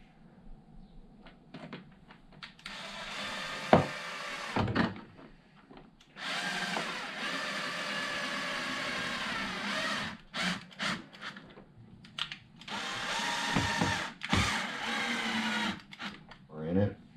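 Power screwdriver driving screws into a Traxxas Xmaxx RC car body latched in place, in several sustained whirring bursts of a few seconds each with short taps and clicks between, close by, with someone talking.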